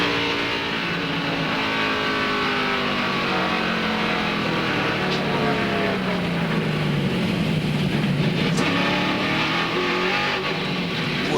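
Rusty Wallace's stock car at the 2001 Brickyard 400 roars continuously up close, its engine note sweeping down and back up as he lifts and gets on the throttle, loud and unbroken with no talk.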